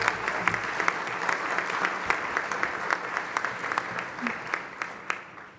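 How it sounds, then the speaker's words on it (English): An audience at a commencement ceremony applauds the graduates, sustained clapping with distinct sharp individual claps popping out at a brisk irregular rhythm, moderately distant and fairly quiet. "Let's give them a round of applause."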